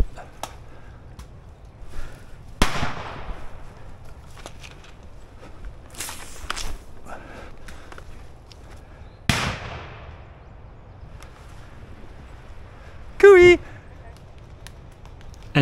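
Airsoft grenades burst during a woodland skirmish among bushes and trees: a few sharp, well-spaced bangs stand out over soft rustling and footstep-like movement, with one brief louder crackle near the end.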